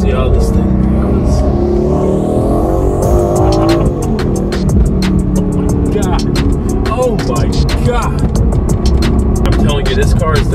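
A 2021 Aston Martin Vantage engine roars loudly and continuously, climbing in pitch, with a sharp blip and rapid crackling pops on the downshift, heard up close from inside the car while road and wind noise continue underneath.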